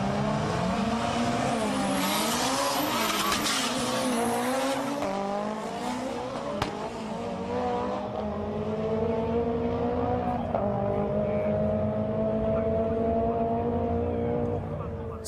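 A street drag Nissan 180SX with a big T88 turbo revs and launches, engine pitch sweeping up and down with a sharp crack midway, loud and close, a voice talking over it.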